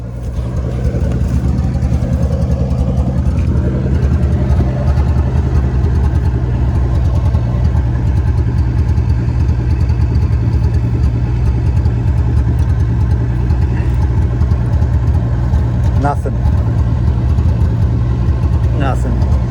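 An engine runs at a steady idle for the whole stretch, close and loud, on a flood-damaged 250 under repair, with a few faint clicks and no speech over it.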